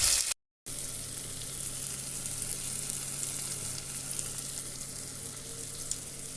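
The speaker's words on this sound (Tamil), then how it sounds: "தக்காளி கரைஞ்சி வர அளவுக்கு வதக்கி எடுத்துக்குவோம்." Onion and tomato sautéing in a pan for Tamil kara kulambu: a steady, close sizzle and frying hiss with faint stirring, continuous after a brief cut near the start, no voices.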